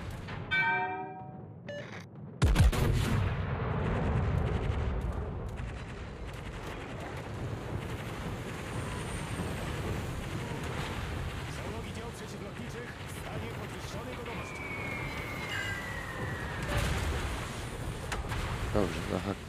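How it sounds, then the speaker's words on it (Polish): Heavy naval gunfire in the World of Warships game, with the battleship Thunderer in play: a sharp, loud salvo blast followed by a long rumbling roar of battle noise, with scattered whistles and distant booms. "To jest salwa do mnie, czy jesteś tam za mną?"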